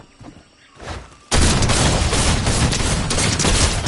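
A sudden loud gunfire blast in Fortnite cuts in after a second of quiet, followed by a sustained roaring wash of shots and impact noise.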